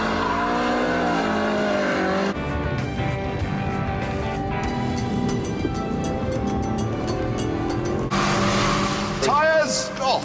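A car tearing around with tires squealing, engine revs rising and shifting, loud and close, with bursts of screech and skid near the end.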